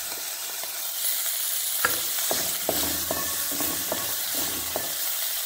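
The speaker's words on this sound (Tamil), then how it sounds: "இந்த பொடியெல்லாம் எண்ணெயில் கொஞ்சம் வறுகணும்" Spice powder and tomato sizzle loudly in hot oil in a pan for a pumpkin gravy, with a steady frying hiss broken by sharp scraping and clacking stirring strokes.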